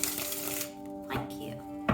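A deck of tarot cards is riffled and shuffled by hand in a few short bursts of papery flicking, close and fairly quiet, with a voice speaking alongside.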